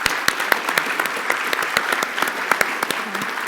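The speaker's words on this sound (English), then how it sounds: "I just want a round of applause for" Audience applauding at a keynote session of a youth prevention, treatment and recovery meeting, a steady even patter of many hands with sharp individual claps standing out, sustained for the whole stretch.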